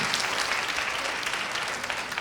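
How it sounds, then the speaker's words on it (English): Steady applause for a graduating senior class at a school ceremony, a dense, even crowd clapping with no pauses. "One more time, clap it up."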